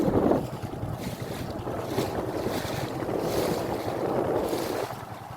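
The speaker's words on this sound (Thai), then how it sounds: "กำลังขับเรือเข้าหมายแรกครับ" Motorboat heading out to a squid fishing spot at sea, a steady engine drone mixed with wind buffeting the microphone and water rushing past the hull, loud and continuous throughout.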